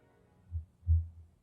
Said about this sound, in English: it was a thumping sound coming from the organ